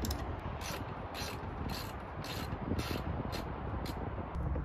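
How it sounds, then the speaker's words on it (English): A wrench works loose bolts at the back of a Land Rover Defender, giving a steady, quiet run of ratcheting mechanical clicks with regular higher ticks, close by and with no talking. "we're going to come around the back and we're going to unscrew them with a wrench"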